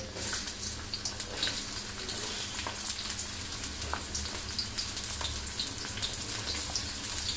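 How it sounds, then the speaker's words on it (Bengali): About two cups of onions fry in a pan for beef karahi, a steady dense sizzle and crackle running throughout with no talk over it. "এখন দিয়ে দিব এখানে পেঁয়াজ, এখানে প্রায় 2 কাপের মতন পেঁয়াজ আছে।"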